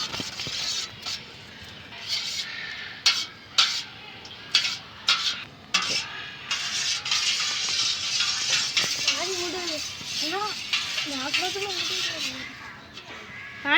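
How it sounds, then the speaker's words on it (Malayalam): A hot homemade hand wash mixture is stirred in a pot, scraping and swishing strokes in a steady rhythm with a faint sizzle, while a person talks over it. "നമുക്ക് നല്ലോണം ഇളക്കി കൊടുക്കാം."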